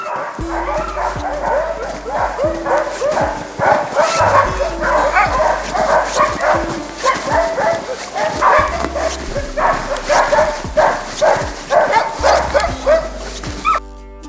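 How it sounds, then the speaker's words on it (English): A team of husky sled dogs in snowy Lapland at -25°C bark and yip continuously and excitedly, close and loud, with whimpers mixed in and a voice speaking briefly over them. "কুকুরগুলো চেঁচাচ্ছে।"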